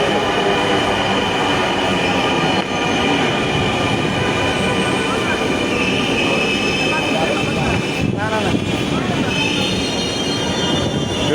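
A train bound for Motijheel in Dhaka runs on its rails with a loud, continuous rumble and occasional wheel squeal, heard up close throughout, with faint voices underneath.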